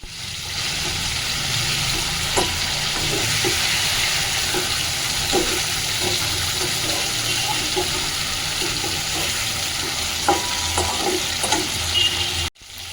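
Katla fish pieces frying in spiced oil for a Bengali fish kalia, a loud steady sizzle with occasional spatula scrapes and stirs close by, ending abruptly.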